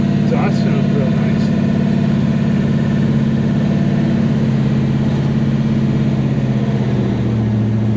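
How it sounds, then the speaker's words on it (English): 1967 Chevelle drag car engine exhaust, a loud, steady deep rumble with a low throbbing drone, heard close and continuous, likely from inside the car at idle or cruising, with brief light noises early on. "Exhaust sounds real nice."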